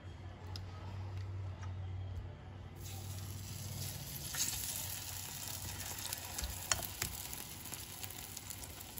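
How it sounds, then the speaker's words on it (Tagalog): Tikoy, a Chinese New Year rice cake, sizzles and fries in a pan with a steady crackle and occasional ticks and pops, heard up close and faint, with no talking. "let's fry the tikoy"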